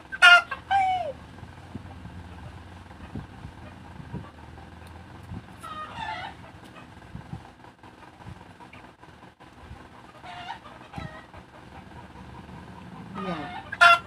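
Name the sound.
chickens clucking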